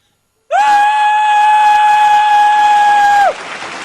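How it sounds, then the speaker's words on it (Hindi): A person screams loudly on request, one sustained high-pitched scream lasting about three seconds, close and very loud, ending abruptly into quieter room noise. "चीख सकते हैं?"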